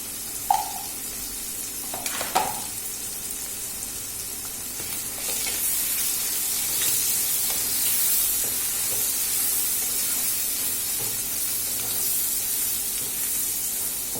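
Chopped onions frying in a pan as the base for a prawn curry, a continuous close sizzle and hiss that steadily grows louder, with a few light clinks of a utensil early on.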